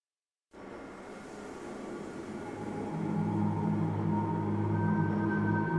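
A tram-style train in the video game Black Mesa starts moving after silence, a low rumbling hum that builds steadily louder with droning mechanical tones and a whine on top.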